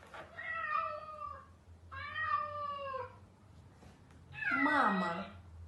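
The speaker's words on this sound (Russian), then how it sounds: "Кошка." A cat meows three times, close and clear: two drawn-out, falling mews followed by a louder, more strained yowl, with a faint low hum underneath.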